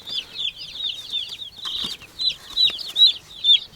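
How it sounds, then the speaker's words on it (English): Many small Cornish cross meat chicks peep constantly in an outdoor brooder in high, overlapping chirps, close by, with a few louder cheeps rising near the end. "These chickens are Cornish crosses from Cackle Hatchery."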